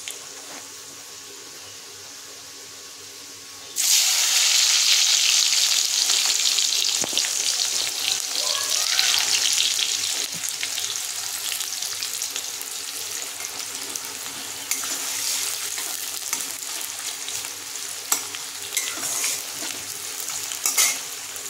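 Chopped onion hits hot oil spiced with two cardamom pods and two cinnamon sticks, a sudden loud sizzle bursting in after a quiet start, then settling into a steady frying hiss with occasional stirring.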